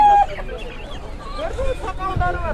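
Turkey poults, about two and a half months old, chirping and peeping at a busy poultry and livestock market in Sokuluk, with scattered bird calls over crowd noise and nearby talk.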